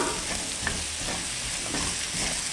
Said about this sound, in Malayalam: എല്ലാം കൂടെ നല്ലതുപോലെ മിക്സ് ചെയ്യാം